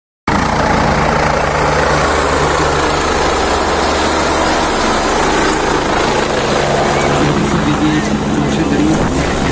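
A helicopter flying at a Slovak air show drones loudly and steadily with dense rotor and engine roar heard from inside the cabin, as people talk over the noise.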